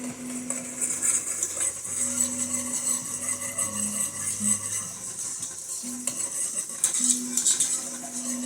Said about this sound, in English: Mix that in a little bit.